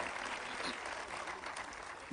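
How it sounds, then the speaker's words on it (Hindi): An audience at a mushaira, a Delhi Urdu poetry gathering, gives soft, distant applause that holds steady for about two seconds. "जोरदार तालियों से आप एक बार इस्तेमाल करें"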